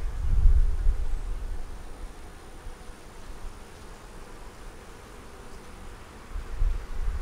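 Honey bees buzzing inside a hive during winter sugar feeding, a dense low hum heard close with a few louder rumbles near the start and end, no talking.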